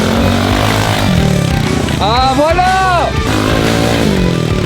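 Motorcycle ridden on bare rims with no tires, its engine revving loudly and continuously throughout as someone talks over it.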